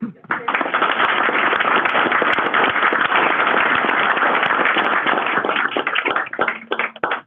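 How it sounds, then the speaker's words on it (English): Sustained, dense applause from the audience at a city committee-of-the-whole meeting, loud and steady for about seven seconds before thinning into scattered claps at the end. "we feel like they just deserve a big round of applause yet again"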